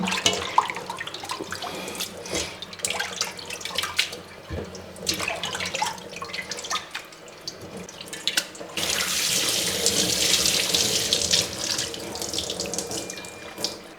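Tap water runs continuously into a sink while meat is washed, a steady splashing rush that grows louder and brighter toward the end, with no voices.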